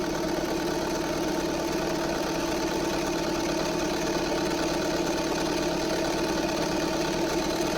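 A Seat Exeo engine idles steadily after an oil flush, a continuous mid-pitched drone with a faint knocking texture, close and constant throughout with no talking.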